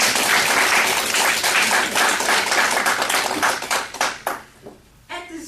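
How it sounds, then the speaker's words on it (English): A lunch-and-learn audience gives a loud, dense round of applause. The clapping holds steady for about four seconds, then thins into a few scattered claps and fades out. "Please join me in a round of applause one more time."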